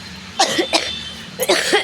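Several harsh coughs in quick succession, close and fairly loud, with short pauses between them.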